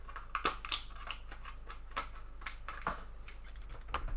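Scissors snip open the tops of packs over a bin, a few sharp, close cuts with crinkly packaging rustle between them.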